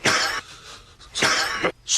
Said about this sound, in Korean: 어떻게 이런 시국에 기침을 할 수 있느냐, 이 미련한 거사!